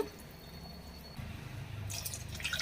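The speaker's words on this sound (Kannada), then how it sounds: "ಅದಕ್ಕೆ ನಾನು ನೀರು ಹಾಕ್ತಾ ಇದ್ದೀನಿ" Water is poured into rice in a container in a short, soft stream, starting faintly and building into a brighter splashing fill near the end.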